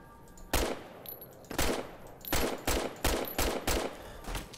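Gunfire in the video game Fallout New Vegas: six or seven loud, evenly spaced shots or short bursts roughly every half second to second, each with a brief ringing tail, and no voices.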